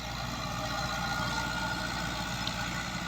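A Fiat 640 tractor running a laser land leveler idles with a steady, low diesel drone and faint mechanical vibration, close and constant throughout.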